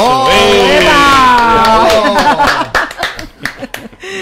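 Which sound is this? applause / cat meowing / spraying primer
applause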